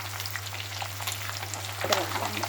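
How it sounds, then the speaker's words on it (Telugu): Fish pieces frying in hot oil as they are turned, a steady close sizzle and crackle over a low hum, with a scraping stir near the end. "నూనెలో వేసి వెంబటే తిప్పుకోండి ఫ్రెండ్స్"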